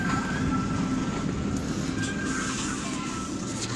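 Serengeti Express train ride at Busch Gardens, a steady, continuous rumble of rolling rail cars heard from on board, with a faint squeal and light clatter over the wheels and no talk.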